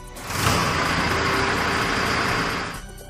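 A Mahindra tractor engine starts with a key turn and settles into a loud, steady diesel idle close by, running for about three seconds before fading slightly at the end, with no talking.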